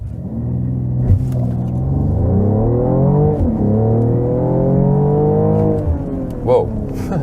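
A Mercedes-AMG GLE 53 accelerates hard from standstill, its engine climbing through several rising pulls with brief dips at gear changes, loud and close from inside the cabin.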